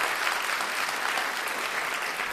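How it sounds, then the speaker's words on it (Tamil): Sustained, dense applause from an audience at a Tamil debate stage show, a steady wash of clapping that fills the moment without any voices on top. "விளம்பரதாரருக்கு நாம் நெஞ்சம் நிறைந்த ஒரு கைத்தட்டை தட்டி வைக்கலாம்."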